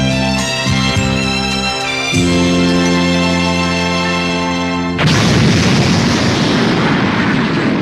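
The Big Gete Star planet blows apart in the 1992 Dragon Ball Z film Return of Cooler: steady sustained tones give way to a loud, roaring explosion burst that fills the last few seconds with dense rumble, with no talking.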